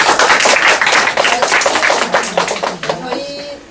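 An audience claps for a lecturer at the end of a talk on private tutoring. The applause is loud, dense and close, then thins into scattered claps and fades. A voice speaks over it.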